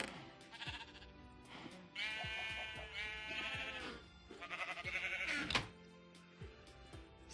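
Several sheep in a video game bleat in overlapping, wavering calls, some long and some short, close and fairly loud with brief pauses between bursts, without speech.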